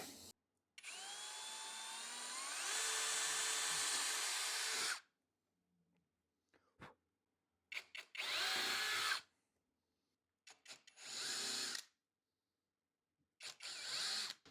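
Power drill boring countersink holes in a wooden juice groove jig: one long, loud run of the motor winding up and holding, then several short bursts with silent pauses between them.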